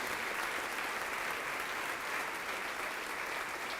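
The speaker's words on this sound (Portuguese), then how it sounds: "vamos aplaudir mais ao Senhor Jesus" A church congregation applauding during a worship service, a steady, even wash of many hands clapping that carries on throughout, heard from a distance and fairly faint.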